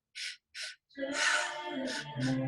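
Two quick, sharp breaths in a pranayama breathwork session, each drawn in and cut short, then a person starts talking close up.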